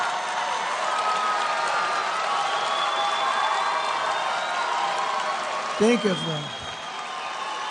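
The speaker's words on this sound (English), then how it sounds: "When they erupt like that, with no microphone on the crowd in order to capture it, you just hear it organically." Live crowd at a political rally cheering and applauding, a steady broad roar of clapping and shouts sustained throughout, with a voice speaking over it near the end.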